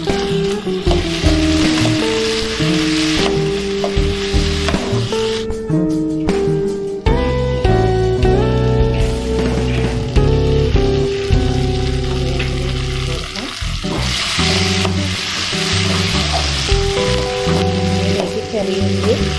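Onion, green chili and curry leaves sautéing in oil for beef curry, a loud continuous sizzle with occasional stirring, layered under steady background music.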